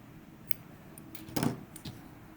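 Scissors snip through cotton yarn while crocheting a tote bag: a few faint metallic clicks and one slightly louder cut, close by with quiet room tone and no talking.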